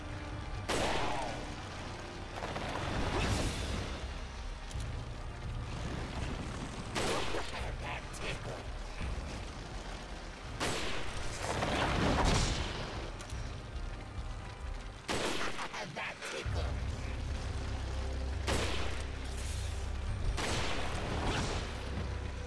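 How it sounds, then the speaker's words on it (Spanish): Sniper rifle shots ring out in the video game Resident Evil 4, several sharp cracks spaced irregularly over a humming game background. "He fallado todos los tiros con un rifle de precisión."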